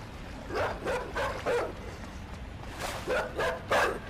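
Dog barking in the video game Inside, a few bursts of sharp barks in two clusters, moderately near over a steady low rumble of game ambience.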